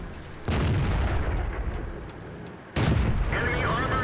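Tank cannon shots in World of Tanks on the Erlenberg map, two heavy booming blasts with long rumbling tails, the second sharper and followed by mechanical clatter.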